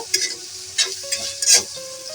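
Whole spices, cardamom, cloves, cinnamon stick and bay leaves, sizzle in hot oil with onion while being stirred, short crackling bursts rising and fading up close.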